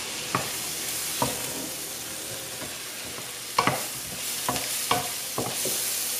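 Mushrooms hit a pan of softened onions and sizzle steadily, with several sharp clinks of a utensil stirring at intervals throughout.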